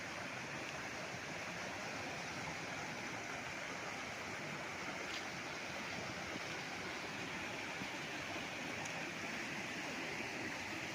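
A creek flowing beside a farm lot in Majayjay, Laguna, giving a continuous rushing murmur of water, steady and unbroken, with no voices present.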